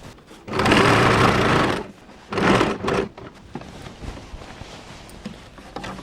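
A sewing machine stitches a rolled hem on cloth, running loud and close in two steady bursts with a short pause between, followed by quieter handling of the fabric.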